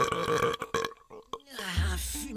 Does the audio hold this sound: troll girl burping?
yes